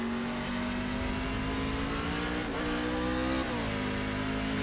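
A NASCAR race car engine in the iRacing simulator at Hockenheim, droning loud and steady as it accelerates, pitch climbing through gears with short dips at each shift.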